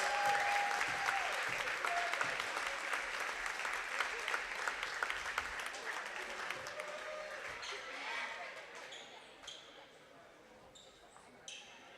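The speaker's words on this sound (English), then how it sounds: "Let's have one last big round of applause for the parents of our basketball players." A gym crowd at a Columbus Catholic at Greenwood boys high school basketball game gives a big round of applause for the players' parents, sustained dense clapping that slowly tapers off, with faint voices underneath.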